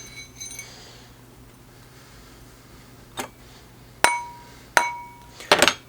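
A rawhide mallet strikes a metal ring on a steel ring mandrel, leaving a few sharp metallic taps with ringing tails. They start faint and grow louder and closer together toward the end, over a quiet background hum.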